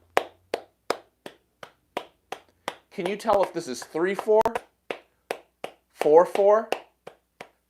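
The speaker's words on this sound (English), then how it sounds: "if I were to just clap a steady pulse" Hands clap a steady, evenly spaced pulse at equal volume, sharp and close, continuing under a voice while he talks and asks a question in the middle.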